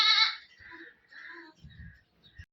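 Goats at a goat farm bleat up close, one loud cry followed by several softer, wavering bleats, with faint shuffling between them.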